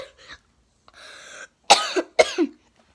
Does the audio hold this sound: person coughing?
yes